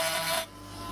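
A Parkside cordless rotary tool grinds a deep cut into slate, a loud, bright abrasive rasp for about half a second that then drops to a quieter, steady whir as the bit eases off the stone.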